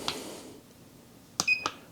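Two short electronic beeps in quick succession, clear and close, after a faint click, with quiet background otherwise.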